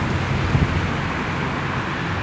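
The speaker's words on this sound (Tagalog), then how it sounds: "Ay, ang lakas ng hangin" Strong wind buffets a phone microphone outdoors at a park stairway, a steady, close, roaring low rumble with slight gusts and no speech.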